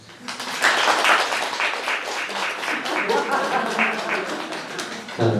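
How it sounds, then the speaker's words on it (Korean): An audience bursts into applause, a dense patter of many hands clapping that builds quickly and carries on steadily for several seconds before fading near the end. "박수 한번 주세요."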